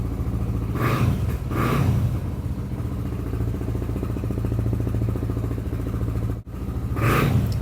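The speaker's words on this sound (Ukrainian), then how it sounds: "Дуже реактивно, подивіться, я лідаю газу." A 2025 Lifan KPR250 motorcycle engine with fuel injection idles with a steady rumble, then revs sharply three times in short bursts toward nearly 5,000 rpm, loud and close, with no talking.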